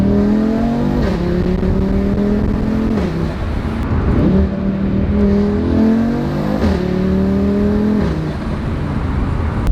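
A tuned Audi RS3 8Y with an aftermarket downpipe pulls through several gears, its five-cylinder exhaust rising in pitch and dropping at each shift, loud and steady, with turbo whoosh mixed into the drone and no voices.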